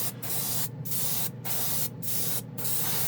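Five short bursts of airbrush spray hissing acrylic clear candy paint, evenly spaced with brief pauses between, close and soft.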